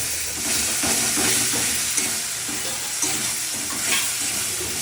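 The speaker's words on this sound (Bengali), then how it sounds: "এখানে ওই যে রান্না বান্না হচ্ছে কষানো হচ্ছে মশলা কষানো হচ্ছে" Spices being fried and stirred in a pan on a home cooking fire give off a steady sizzle and hiss, with soft scraping stirs recurring through it; no one speaks.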